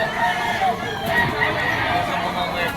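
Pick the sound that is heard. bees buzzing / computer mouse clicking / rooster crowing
rooster crowing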